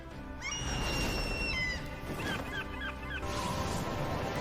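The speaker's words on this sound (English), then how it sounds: "More birds." Outdoor bird calls: a long high whistle, then a series of short chirping notes, with a steady background hiss.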